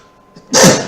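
A single sharp sneeze bursts out after a brief quiet inhale, close and loud.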